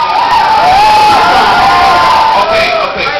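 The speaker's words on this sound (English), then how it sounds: "you're gonna cheer and applause in length and strength together" A crowd at a burping contest cheers and whoops loudly, a dense sustained roar of shouting voices with rising and falling yells, close and continuous for the whole stretch.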